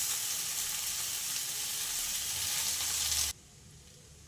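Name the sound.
chow mein with egg being stir-fried in a pan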